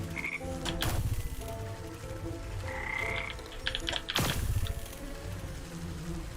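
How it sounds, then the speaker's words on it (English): Frogs in the video game Wytchwood croaking loudly and close, two strong bursts of croaking about three seconds apart with softer chirps and clicks between, over a low ambient game backdrop. "There's some frogs up there,"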